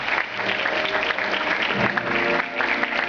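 An audience applauds at a school authors' contest event, with a full, sustained round of clapping from a large gathering, dense and steady throughout with no talk.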